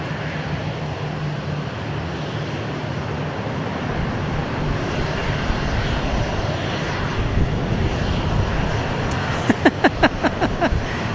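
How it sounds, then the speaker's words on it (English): A jet roars continuously at Dallas Love Field airport, a loud, broad rumbling hum that holds steady throughout, with a few sharp clicks near the end. "So you'll see a lot of private jets here."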